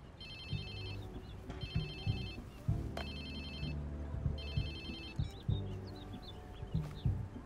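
Phone ringtone in the Watch Dogs 2 video game, a faint repeating electronic trill in several short bursts over low game background music and bird-like chirps.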